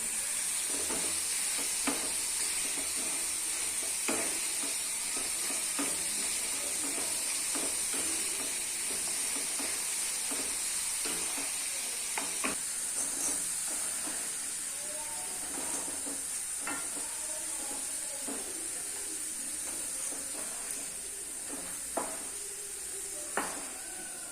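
French fries frying in hot oil during home cooking, a steady close sizzle and hiss with occasional faint clinks of stirring and utensils throughout.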